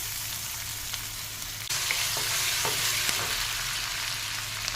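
Crushed garlic and ginger with spices drop into hot oil in a pan for Tamil chicken pepper fry, starting a quiet hiss that suddenly swells into a steady, brighter sizzle with a few faint clicks of stirring.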